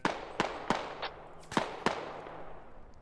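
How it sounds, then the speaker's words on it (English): Gunfire in the military shooter game SquadOps: five or six sharp, separate shots ring out at irregular intervals over three seconds, each followed by a short decaying echo. "Charlie's shooting at something here."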